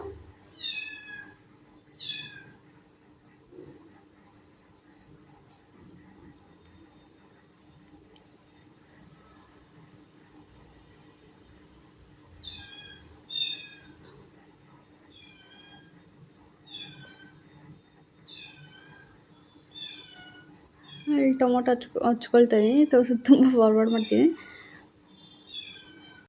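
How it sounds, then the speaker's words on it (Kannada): A kitten missing its mother gives repeated thin, high meows in short bursts, fairly faint in a quiet room, while someone talks at a distance and then louder close up near the end. "ಬೆಕ್ಕುಗಳ ಸೌಂಡು ಜಾಸ್ತಿ ಆಗಿದೆ"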